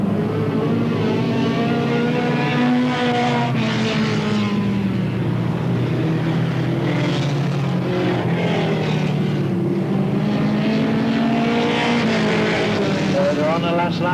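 Escort race cars at Alwalton Raceway, a continuous loud engine roar rising and falling as they accelerate and pass, with a commentator talking over the noise throughout.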